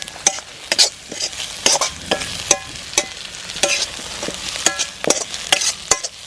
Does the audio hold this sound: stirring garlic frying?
yes